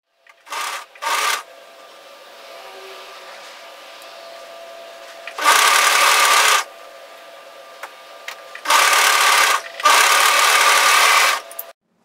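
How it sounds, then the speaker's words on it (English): A sewing machine stitches a cardigan seam in short bursts and longer runs separated by quiet pauses, close and fairly loud. "And then just keep sewing all the way through to the seam on the other side."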